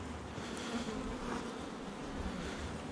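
Honeybees buzzing around a beehive, a faint, steady swarm hum with no talk over it.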